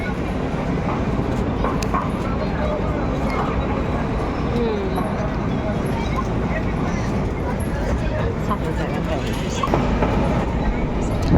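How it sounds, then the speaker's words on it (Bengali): Moving passenger train heard from inside a carriage, with a continuous loud rumble and rattle throughout and people talking over the noise. "ট্রেনে করে যাচ্ছি, ট্রেনে বসে পড়েছি, ট্রেনেতে যাচ্ছি।"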